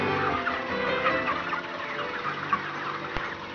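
Broiler chickens, a mix of roosters and hens, cluck and murmur continuously in a close, busy flock, with overlapping calls and one sharp knock near the end.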